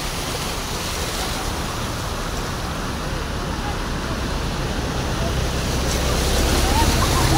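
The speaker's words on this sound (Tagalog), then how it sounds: "talagang malakas ang agos ng tubig" A loud, continuous rushing of floodwater on Taft Avenue, Manila, a broad steady roar like a strong current, with no other distinct sounds standing out.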